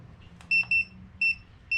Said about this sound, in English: It's beeping because I have one of the TPMS tire pressure monitoring systems off the truck.